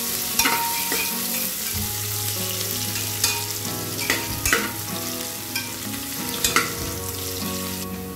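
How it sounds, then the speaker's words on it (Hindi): Onions frying in a pan for mutton curry, a steady close sizzle with occasional stirring clatter and scrapes throughout, no talking. "कांदे को अच्छे से हम लोग गोल्डन ब्राउन होने तक फ्राई कर लेंगे इसमें।"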